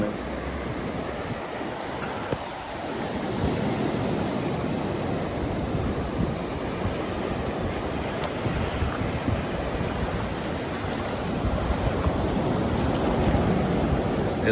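Ocean surf rolls in on a beach at Wildwood, New Jersey, a continuous roaring wash of breaking waves that swells and sustains without any clear voices.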